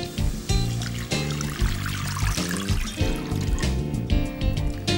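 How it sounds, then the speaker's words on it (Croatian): Vegetable stock pours steadily into a pot of fried onions, a continuous splashing gurgle up close, rising and falling slightly as the stream shifts. "Zatim u lonac ulijemo povrtni temeljac,"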